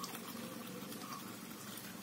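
Plain water poured into a container for a petrol and water mixing demonstration makes a steady, soft continuous gush that stays even and fairly faint throughout.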